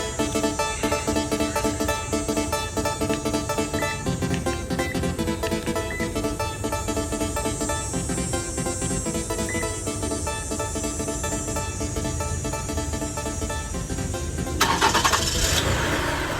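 A Toyota engine starts through a remote start module and settles into a steady idle, heard close and alone, with a brief louder swell near the end.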